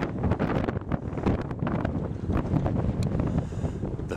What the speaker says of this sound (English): It's a bit windy, you may not hear me.